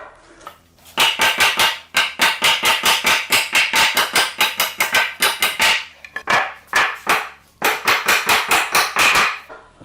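A claw hammer strikes nails in pallet wood in rapid, sharp metallic blows, fast bursts of evenly spaced hits separated by brief pauses, loud and close.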